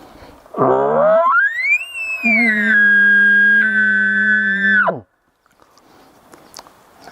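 A voice imitates an elk bugle on a diaphragm game call, a rising squealing whistle that holds a steady high note with a hummed buzzing layer beneath, then cuts off.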